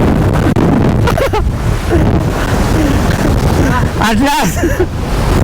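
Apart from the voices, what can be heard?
strong wind blowing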